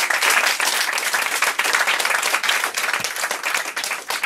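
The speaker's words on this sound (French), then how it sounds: "On l'applaudit encore une fois, s'il vous plaît" An audience at a poetry tribute event applauds, dense sustained clapping from many hands filling the room at a steady level throughout.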